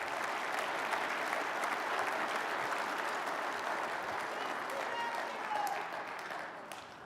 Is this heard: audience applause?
yes